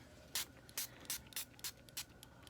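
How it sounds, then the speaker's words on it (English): Six brief spray-can hisses of polymer spray onto sand in an even rhythm, close by and soft, with quiet gaps between each puff. "And then spray some more."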